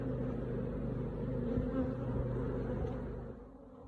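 Honey bees drone in a steady, close buzz at the hive, a continuous hum that fades slightly toward the end.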